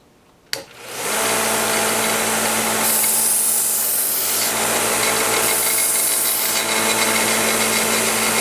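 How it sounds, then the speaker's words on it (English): A serrated knife has its flat side sharpened on a 1x30 belt sander. The motor starts with a click and spins up, then a steady grinding hiss continues, swelling as the blade is pressed to the belt, close and loud. "So if you just sharpen the flat side, that will make those serrations sharp again."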